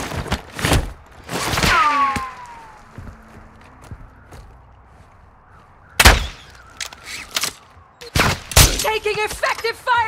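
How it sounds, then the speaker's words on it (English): Gunfire in the Modern Warfare 2 DMZ video game comes in sharp bursts and short volleys, some close and loud, with footsteps and radio-style voices between the shots. "You are taking effective fire."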